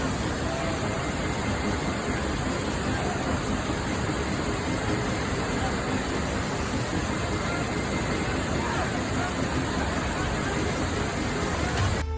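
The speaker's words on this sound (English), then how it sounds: "This is Hukou Waterfall, the largest waterfall on the Yellow River and the second largest waterfall in China." Hukou Waterfall on the Yellow River in China roars as a dense, unbroken wall of rushing water, loud and constant throughout with no voices.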